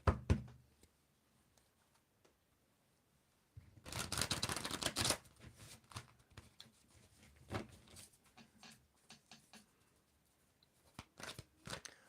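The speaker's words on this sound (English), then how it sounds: "you tell me when to stop shuffling" Tarot cards riffled and shuffled by hand in a quiet room, a dense crackling burst of card flutter in the middle, followed by scattered soft taps and slides of the deck.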